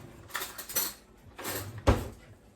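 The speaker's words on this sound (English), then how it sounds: "scrape this down. I think I'm going to do better with a spoon" A spoon scrapes almond butter cookie dough down the sides of a mixing bowl in three short raspy strokes, ending with a clunk against the bowl, close up with no talk.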